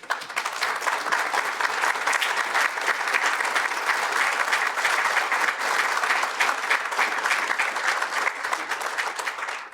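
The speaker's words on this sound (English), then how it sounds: "the round of applause they deserve for everything they do" Sustained applause from a large audience at a county government State of the County address, a dense, steady wash of clapping honoring emerging leaders standing in the room, loud and unbroken for the full stretch.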